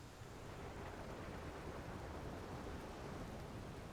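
Steady, dense rain hiss with a low rumble beneath it in the game Outer Wilds, a constant broadband wash with no voices.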